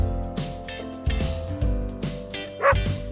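A dog gives a run of short yips and barks with a few whimpering notes, fairly close and alone over a low background hum.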